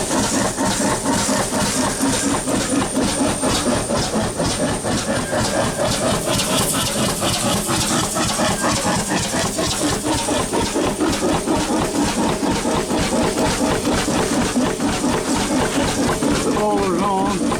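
An antique Taylor Iron Works engine, running for the first time in more than 50 years, chugs in a steady, even rhythm close by. A slight knocking noise runs through the beat.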